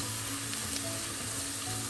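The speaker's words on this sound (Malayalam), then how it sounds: "ഇത്രയും ചേർത്ത് നമുക്കൊന്ന് ഈ എണ്ണയിലൊന്നും ചെറുതായി ഒന്ന് മൂപ്പിക്കാം." Spices and garam masala sizzling in hot oil for a Kerala chicken dish, a steady dense crackle and hiss close up with no voices.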